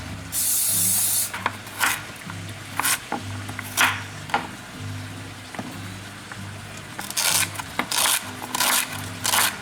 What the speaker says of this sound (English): I'm gonna go ahead and spray the slow cooker